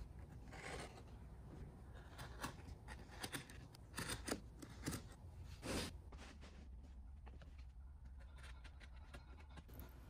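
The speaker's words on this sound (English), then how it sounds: "I don't have or want a laser cutter, so I'm using a knife" A hand knife scores and slices through a cardboard template, scraping cuts in short irregular strokes over a steady background hiss, close but fairly quiet.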